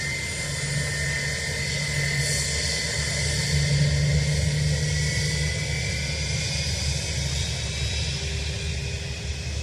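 A Ryanair airliner from Birmingham at Dublin Airport, a steady, loud jet roar with a faint whine, continuous and unchanging throughout.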